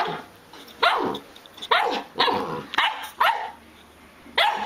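A Samoyed dog barks and growls at door stops, giving about six sharp, loud barks in an irregular rhythm close by, with low growling between them and no talking.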